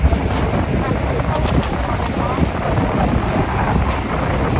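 Strong, steady wind buffets the microphone on a tour boat near Horseshoe Falls at Niagara Falls, a continuous rushing roar laced with spray and water noise, with no clear voices.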